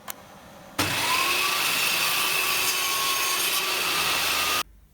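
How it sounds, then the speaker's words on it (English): A table saw with its blade tilted bevels the edge of a wooden offcut, a loud steady whining cut lasting about four seconds that starts abruptly and stops sharply, with no talk. "I've just tilted the table saw blade over to match that angle, and then we're just going to run those battens through just to bevel that edge"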